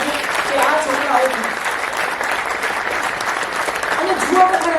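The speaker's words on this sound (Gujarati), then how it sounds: "એટલે આ બધી ટીમને આપણે જોરદાર તાળીઓથી બતાવીએ" Loud, sustained applause fills a hall for a team at a Patidar community gathering in Mumbai, a dense wash of clapping from many hands that stays steady throughout.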